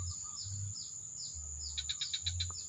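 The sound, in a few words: male perenjak bambu (prinia) bird calling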